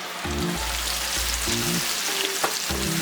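Blended vegetables fry in a pan for Ghana-style spaghetti, making a continuous close hiss with a few low stirring knocks, with no one speaking.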